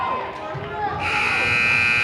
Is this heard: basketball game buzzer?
yes